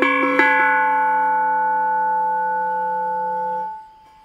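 A carbon dioxide cylinder bell with cuts in its wall is struck once, ringing a clear sustained metallic tone with many steady overtones that hold for several seconds before damping out abruptly.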